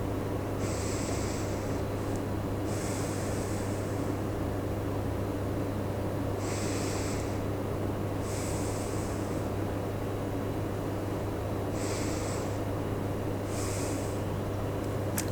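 Slow, deep breathing during a yoga neck and shoulder sequence, several airy inhale-exhale pairs heard close over a steady low background hum, with no talking.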